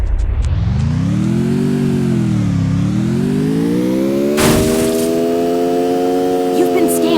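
In the Free Fire video game, a car engine revs loudly, its droning pitch rising, dipping and climbing again. A sharp burst of noise cuts in partway through.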